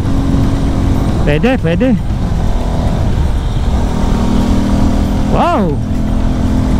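A Rusi Flash 150 motorcycle with a carburetted push-rod engine hums steadily during a test ride, with a few short rising-and-falling tonal whines, and someone speaks briefly over it.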